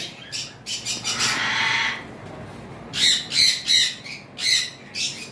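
A pair of sun conure parrots at a bird farm give harsh, loud squawks in short bursts, a long screech followed by several rapid repeated calls close by.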